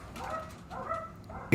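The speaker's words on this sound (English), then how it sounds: "the dogs are going crazy" Dogs barking indoors at night, a few muffled, moderately loud barks and yips in quick succession over a low background hum, ending in a sudden louder knock.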